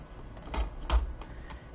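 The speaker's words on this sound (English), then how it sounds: "I'm going to cut the back piece off." Scissors cut the back piece off a cardboard file folder, giving two sharp, close snips in quick succession followed by softer crinkling, with no talking.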